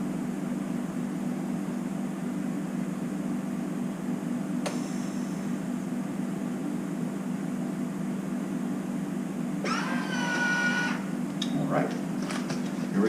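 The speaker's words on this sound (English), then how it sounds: "Makes that noise, that unique noise whenever it's really got a good seal. You hear a high pitch come up." A Foodsaver vacuum sealer pulls air from a bag holding two pieces of deer tenderloin, giving a steady motor drone throughout with a rising high-pitched whine and brief clicks near the end as the seal completes.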